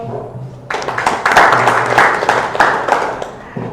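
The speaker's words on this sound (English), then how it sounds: "Sayyid Nisar Ahmad Sahab, give him a big round of applause." Audience applause at a business meet, a burst of clapping that starts abruptly and holds steady for several seconds, moderately loud and close, with faint voices underneath.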